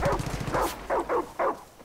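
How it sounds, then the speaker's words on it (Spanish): Dog barking inside the video game Far Cry 5: a run of four or five short, loud barks at an uneven rhythm, close by, with busy game noise underneath and no talk. "Me están ladrando, pero no sé dónde"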